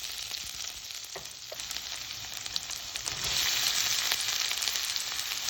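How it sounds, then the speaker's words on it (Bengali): Ginger, garlic and chopped onion fry in hot oil in a pan, a steady close crackling sizzle that grows slightly louder partway through, with a few soft utensil clicks and no voices. "এবার আমি একটি পাত্রে তেল গরম করে ওর মধ্যে আদা, রসুন আর পেঁয়াজ কুচি ভালো করে ভেজে নেব।"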